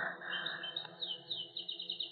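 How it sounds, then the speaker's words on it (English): Caged birds chirping in a dense, continuous twitter of high, rapid tweets and trills, fairly close, with a low hum beneath and no talking. "Those, those birds, I don't like them."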